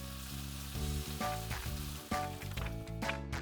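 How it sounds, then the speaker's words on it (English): Constant sizzling of frying in a pan sits beneath a loud, rhythmic musical backing, with no voices. "Now Mummy teaches Ollie how to use the frying pan safely"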